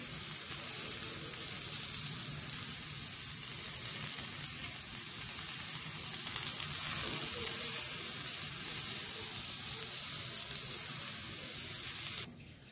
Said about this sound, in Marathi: कांदा, खोबरे आपण खरपूस असे थोडेसे भाजून घेतले की हरभऱ्याची भाजी चवीला छान लागते